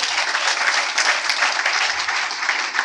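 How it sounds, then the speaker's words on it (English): Audience at a cabin crew fair claps steadily in a dense, even burst of applause lasting a few seconds, fairly loud and without speech over it. "Please, a round of applause."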